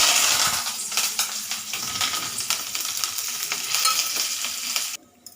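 Crushed garlic and spices tempering in hot oil, a loud crackling sizzle with irregular popping bursts and stirring, close up throughout with no talk before it suddenly drops away at the end.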